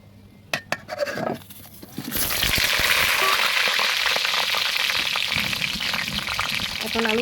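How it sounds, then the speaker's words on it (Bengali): Potatoes drop into hot mustard oil and start frying, a few clinks of a utensil giving way to a loud, dense, continuous sizzle that holds steady to the end. "তেলটা গরম হয়ে গেছে এখন আমি আলুটা ভেজে নিব আলুটা ছেড়ে দেবো"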